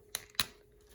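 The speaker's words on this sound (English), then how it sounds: "I just took my scissors and I just went ahead and fussy cut around" Scissors fussy cutting around a stamped, colored paper image for a papercraft Easter slider gift box give two crisp, close snips a moment apart over a faint steady hum, with no talking.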